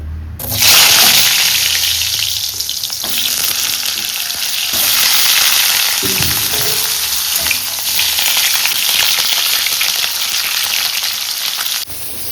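Spices frying in a pan for a meat curry, a steady loud sizzle with stirring scrapes running throughout, briefly dipping in intensity midway and continuing until a final clatter.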